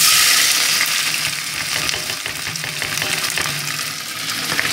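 Chopped leek whites and onion hit hot oil in a pan, giving a loud burst of sizzling that settles into steady frying with faint stirring.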